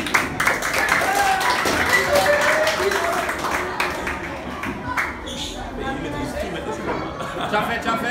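Children clap after story time, a steady patter of applause with lively chatter and voices mixed in, fading somewhat toward the end.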